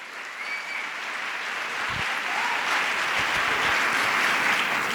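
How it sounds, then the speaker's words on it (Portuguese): A large conference audience applauds together in a church worship setting, a dense continuous wash of clapping that swells gradually louder and fills the room, with a few low thumps underneath. "Você consegue aplaudir ao Senhor por esta palavra?"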